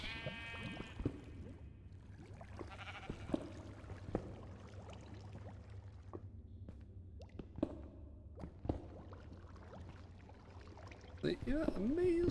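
Sheep bleat in the Minecraft video game, several short wavering cries near the start and scattered calls later over a low steady background hum with occasional plops, and a louder bleat near the end.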